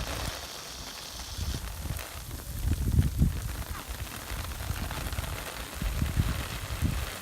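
A garden hose sprays a cheap tent in a waterproof test, a steady spray patters and drums on the taut fabric like heavy rain, rising and falling in intensity without pause.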